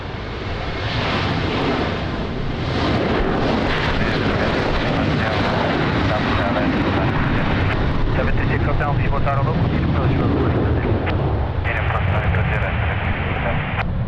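Airliner taking off from runway 20 at Lisbon Airport in strong crosswind, a steady, loud broadband engine roar that holds throughout, with faint radio voices mixed underneath.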